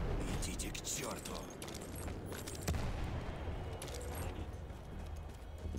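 Gunfire rattles through a World War I battlefield in Battlefield 1, dense and continuous with sharp reports over busy combat noise and a stronger shot near the middle.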